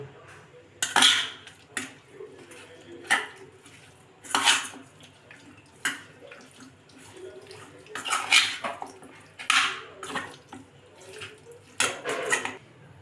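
Chicken is mixed by hand with turmeric and Kashmiri chili powder in a metal bowl, producing intermittent clinks, scrapes and wet squelches in irregular bursts, close and moderately quiet.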